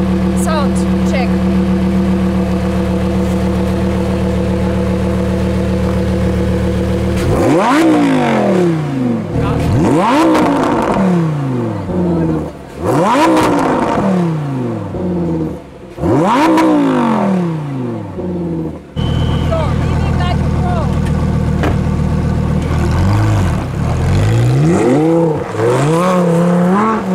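A Lamborghini Huracán EVO engine revs repeatedly in sharp bursts, pitch sweeping up and dropping back, over a steady rumbling idle; loud and close.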